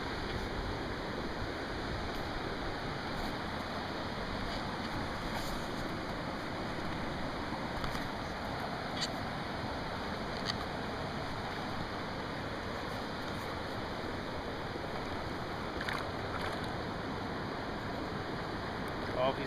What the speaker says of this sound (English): Cast in below this little waterfall here